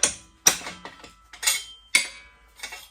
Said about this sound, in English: gave it 2 more notches on the tubing bender